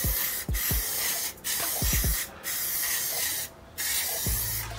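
An aerosol can sprays black paint in short overlapping bursts, a close hissing broken by brief pauses, with faint clicks and taps between passes.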